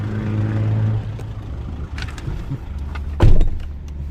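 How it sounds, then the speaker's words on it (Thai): A four-door pickup truck's engine hums low and steady as it is put into first gear and pulls away, with rougher engine noise after the start and a single thump near the end; nobody speaks. "เข้าเกียร์หนึ่งลองขับกันดู"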